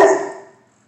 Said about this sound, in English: when he feels there's a threat, he barks.